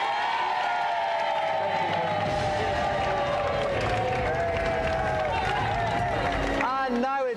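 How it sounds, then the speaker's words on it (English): Studio audience applauds and cheers for a Golden Joystick winner on a video game show, a dense, steady wash of clapping and shouts throughout, with a louder whoop near the end. "Please give a round of applause."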